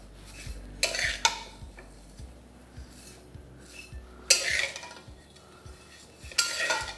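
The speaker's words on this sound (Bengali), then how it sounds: "ভাজতে ভাজতে এইভাবে একটু হালকা হালকা ছাড়িয়েও দেবেন, তাহলে দেখবেন প্রত্যেকটা সিমুই একদম পারফেক্টলি ফ্রাই হবে।" Vermicelli (semai) stirred as it fries slowly in a pan for Eid jorda shemai, with intermittent scraping strokes and a few louder stirring bursts over a faint low hum, no talk.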